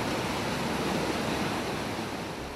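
The river thunders through the breached Marmot Dam in turbulent hydraulic jumps, a constant loud roar of rushing water heard close up, unbroken and without speech.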